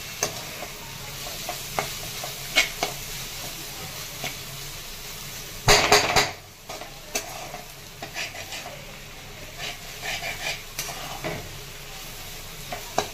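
Crushed roasted peanuts being stirred into methi kharda, a spicy Maharashtrian fenugreek relish, in a pan: a steady soft scraping and stirring with faint sizzling, one louder clattering burst of spoon against pan midway, no talking.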